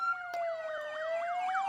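An emergency vehicle siren in the video game Emergency 4 (Odense modification) sounds at an intersection: a long rising wail runs under a rapid, warbling bullhorn yelp, moderately faint but continuous for the whole stretch.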